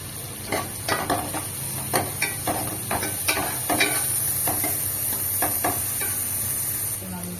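Curry leaves sizzle in a frying pan alongside dried fish for a tomato curry, with a steady hiss broken by repeated scraping stirs of a spatula, close and fairly loud.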